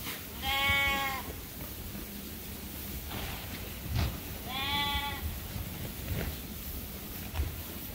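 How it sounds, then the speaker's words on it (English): Sheep on a farm, fed straw and hay, bleat twice in long wavering calls close by, separated by quiet rustling and faint background noise. "They look a lot happier now,"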